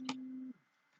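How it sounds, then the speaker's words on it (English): Phone buzzing nearby: one steady tone lasting about half a second with a brief broader burst near its start, then near silence. "Sorry, that's my phone I'm ignoring."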